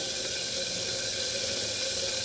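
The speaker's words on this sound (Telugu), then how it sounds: "ఇందులో వాటర్ పోసి పెట్టుకోవాలి" Water poured over tamarind in a bowl while making peanut chutney, a steady close hiss-like stream running unbroken throughout with no talk.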